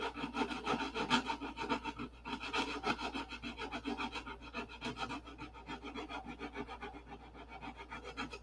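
Sandpaper rasps steadily back and forth over the fuselage of a P-47 model, a close, quiet, rhythmic scratching of many strokes with no speech.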